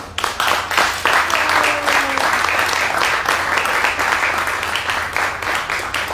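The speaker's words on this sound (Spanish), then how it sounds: "pido un aplauso para él" Audience applause at a live Latin percussion tribute concert, a dense sustained wash of clapping from a sizable crowd that stays loud and steady throughout.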